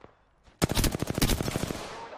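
Automatic gunfire in the video game Apex Legends, a sudden loud burst of rapid shots after a short quiet lead-in, fading into a ringing tail.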